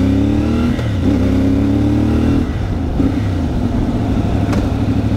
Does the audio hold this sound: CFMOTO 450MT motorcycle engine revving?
yes